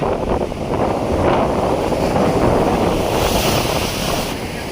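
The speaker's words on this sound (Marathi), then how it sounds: "लाटा पण जरा वाढायला लागल्या काय बघा कशा लाटावरती येतात बघा" Sea waves surge and wash around a fishing boat off the Konkan coast in a continuous loud roar, close by, with wind buffeting the microphone throughout.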